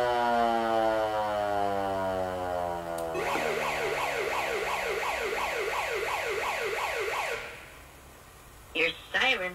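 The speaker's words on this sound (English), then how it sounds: "Can you turn your siren on like me?" A fire engine siren wails, sweeping rapidly up and down in a fast yelp pattern for several seconds, loud and close, then cuts off, followed by brief bursts.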